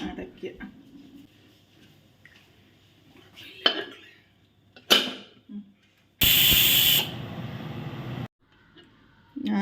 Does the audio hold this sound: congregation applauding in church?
no